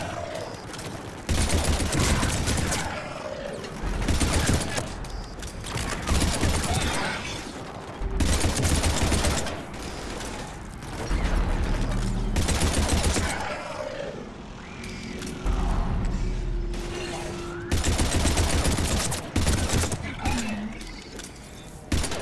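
Weapon fire in the video game Mass Effect 3 comes in repeated loud bursts separated by brief gaps, with mechanical clicks and a few tonal game sounds between volleys.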